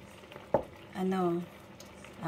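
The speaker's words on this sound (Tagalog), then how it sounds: "So, dito sa ating kalamay ube, kailangan lagi din nating hahaluin." Ube kalamay being stirred in a non-stick pan, with a soft sticky squish, a brief scrape and a low sizzle, faint and close.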